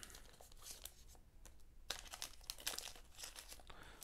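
Foil wrappers on Dragon Ball Super trading card packs crinkle and tear as the packs are opened, giving close, irregular crackling bursts with a few sharper rips and no talking.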